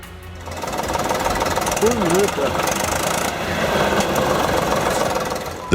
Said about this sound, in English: The VMV Forest Boxer in action.